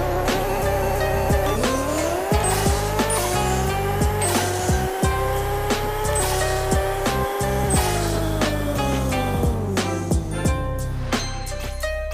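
A Toyota Supra MK4 makes a drag race run in the mobile game Pixel Car Racer, its engine revving up through the gears in repeated rising sweeps, with sharp shift breaks and a constant loud whine throughout.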